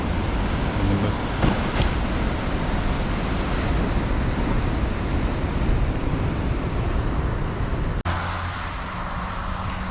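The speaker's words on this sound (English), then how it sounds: "So we've come to the surfers lookout spot. You see the swell's pretty big today." Big ocean swell and surf roll in at a surfers' lookout, a loud continuous wash of breaking waves. Heavy wind buffets the microphone throughout, and there is a brief sharp knock near the end.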